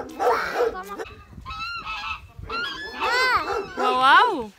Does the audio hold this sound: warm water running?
no